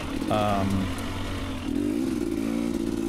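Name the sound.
2019 KTM 250xc two-stroke dirt bike engine riding off-road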